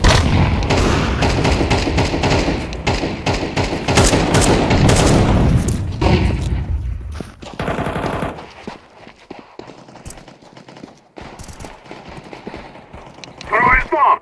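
Counter-Strike 2 combat with dense, loud rapid gunfire and blasts that thin out to scattered shots and a final burst, under shouted voices.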